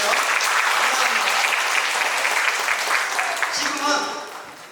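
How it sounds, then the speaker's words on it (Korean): An audience at a university lecture hall in Gwangju gives a loud, steady round of applause that fades toward the end, with a voice speaking over the tail. "박수 해주세요"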